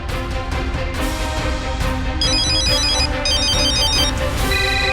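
Phone ringtone from an unanswered outgoing call, a melodic electronic tune repeating in bright chiming phrases over a steady backdrop, loud and close, with no talking.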